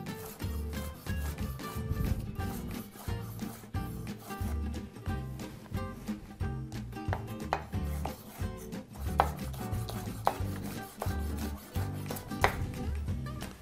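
A kitchen knife chopping bell peppers on a cutting board, close-up rapid series of crisp, rhythmic taps with short pauses, steady throughout with a faint music bed and no talking.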